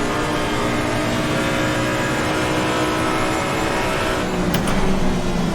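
A GT4 race car engine roars at Monza in Assetto Corsa Competizione, a loud, steady, close drone that holds through the whole stretch with no voices over it.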